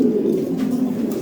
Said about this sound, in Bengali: দেখেন কি কবুতর কত সুন্দর